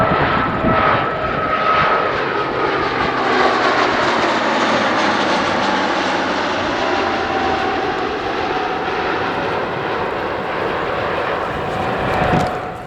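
Steady, loud drone of a Royal Australian Air Force Spartan cargo aircraft's engines, running continuously at close range with a sustained roar and faint tonal whine and no voices.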